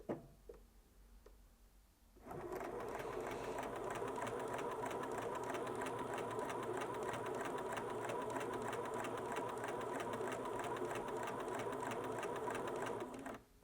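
A Bernina S-325 sewing machine stitches in reverse after a couple of seconds of quiet handling, running as a steady, fast mechanical chatter close to the microphone until it stops at the end.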